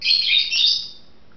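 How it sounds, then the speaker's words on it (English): A bird chirps in the background of a room, one short shrill tweet that is loud and close, then fades out over about a second. "I'm sorry for the bird in the background."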